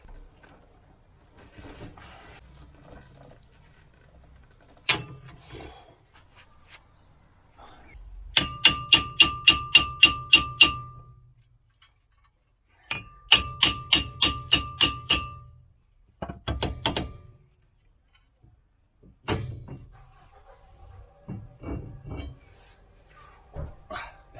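Metal clangs ring out while a pipe extension bar is used to crack loose a wheel nut on a Volvo 940/740, with bursts of rapid, evenly spaced ringing hits, separate sharp knocks and some quieter handling noise in between.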